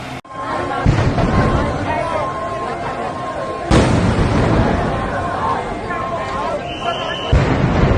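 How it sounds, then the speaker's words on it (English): Two or three sharp, loud booms from explosions at the same spot during a fire go off in quick succession, each followed by a rumbling tail, with crowd chatter and a faint tone underneath. "Not just one, but 2 to 3 explosions occurred back-to-back at the same spot"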